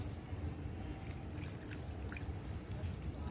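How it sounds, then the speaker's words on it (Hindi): Water poured gently onto the soil of a potted rose plant, a soft steady trickle heard alone at a low level without any talk. "पानी बहुत आराम से देना है कि कहीं से मिट्टी बाहर ना निकले"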